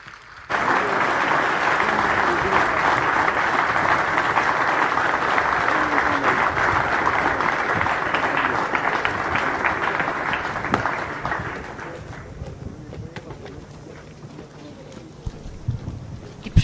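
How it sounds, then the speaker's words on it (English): Audience applause at the Indian Naval Academy passing out parade for the awardees and Champion Squadron, a broad sustained outdoor clapping with wind noise that fades out after about twelve seconds. "please give a huge round of applause to all the awardees and the Champion Squadron"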